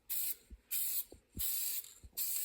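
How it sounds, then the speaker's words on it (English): Spray painting vehicle parts inside a closed shop: four loud, close bursts of hissing spray, each lasting about a quarter to half a second, separated by short gaps with faint thuds. "Really glad that we're in a closed-in shop spray painting too."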